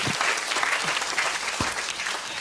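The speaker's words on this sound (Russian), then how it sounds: "Ваши аплодисменты." Studio audience applause fills the moment, dense steady clapping from a crowd that carries at an even level throughout.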